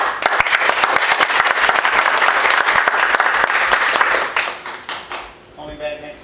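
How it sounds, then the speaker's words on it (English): A crowd at a tech meetup gives a loud, dense round of applause with sharp individual claps standing out, then it dies away near the end as a voice starts speaking. "Let's give a round of applause for"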